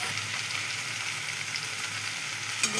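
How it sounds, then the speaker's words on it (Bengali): Pre-fried ginger, cumin, chilli and garlic paste sizzling in a pan for a snail, potato, eggplant and spinach dish, a steady even hiss close by with one brief knock at the end, no voices. "এটাকে এর মধ্যে দিয়ে দেবো আগে থেকে কষে রাখা।"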